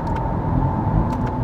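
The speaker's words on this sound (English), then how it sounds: "There's just something about that twin turbo V8 from Ferrari. It just pulls very nicely and sounds lovely too." A Ferrari twin-turbo V8 from a Roma or F8 Spider pulls hard under acceleration, a steady, fairly loud engine drone heard from inside the car, with no talking over it.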